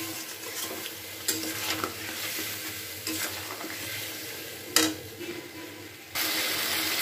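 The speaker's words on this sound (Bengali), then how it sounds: "এবার খুব ভালো করে এটাকে কষিয়ে নেব" Cauliflower and potato sautéed with spices and black pepper in oil, a low continuous sizzle broken by periodic spatula scrapes and knocks against the pan, close by.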